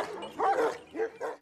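A large Kangal shepherd dog gives three short, deep barks in quick succession, close and fairly loud.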